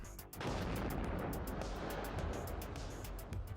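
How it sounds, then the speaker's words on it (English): Counter-battery artillery fire rumbling through a WARNO combat scene, a dense continuous roar of booms with regular sharp cracks, loud and sustained throughout. "Counter battery fire going in against this now up here."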